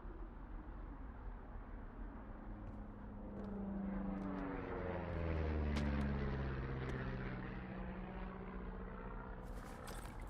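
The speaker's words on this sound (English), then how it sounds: "You see that plane?" A propeller plane drones overhead in the game Firewatch, swelling to a peak in the middle and then fading, a steady engine hum over quiet outdoor ambience with no talking.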